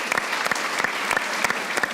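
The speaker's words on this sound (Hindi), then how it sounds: "सही अब्बास के लिए एक बार तालियां।" Studio audience applause on a Hindi cricket talk show, a steady dense patter of many hands clapping with sharper claps standing out, close and continuous throughout.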